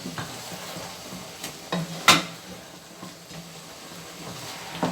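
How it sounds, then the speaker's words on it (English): A spoon stirs stew meat in a pot, giving soft scraping and clinking over a faint, steady background sizzle, with one sharper knock of metal near the middle. "I'm just going to open it and stir"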